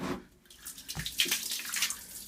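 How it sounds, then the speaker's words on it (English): Water rushes and gurgles out of the drain hose of a small Useful UH-CW204 portable electric washing machine, a faint, steady splashing flow with no talk. "It's completely draining out."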